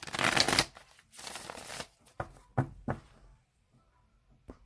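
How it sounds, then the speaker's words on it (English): A deck of tarot cards is shuffled by hand in close, crisp riffling bursts, followed by a few softer taps and flicks as the cards settle, with no voices. "So I'm going to shuffle it one more time."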